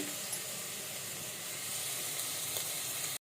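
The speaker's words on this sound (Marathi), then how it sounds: "आलं लसूणचं वाटप जे ठेवलं होतं ते मी थोडं परतून घेणार आहे" Ginger garlic paste sautéed in a pan over medium heat makes a constant dense sizzle and hiss. It stays close and fairly loud, then cuts off abruptly near the end, with no voices.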